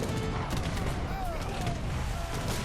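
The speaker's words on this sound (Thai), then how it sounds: "สงครามปืนใหญ่" Massed cannon and gunfire from a battle in the video game Age of Empires III, heard as a dense, continuous roar of overlapping blasts that runs steadily through the whole stretch, with a faint voice partly underneath.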